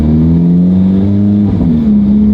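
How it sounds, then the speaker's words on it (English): An Alfa Romeo 4C sits idling loudly just after a cold early-morning start, a deep steady rumble close up with a brief dip and blip in engine pitch partway through. "this 4C sounds pretty loud at startup"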